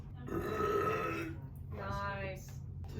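Two long, deep, gurgling burps from a person follow one another closely, the first louder and longer, the second rattling and slightly softer, heard near and clear.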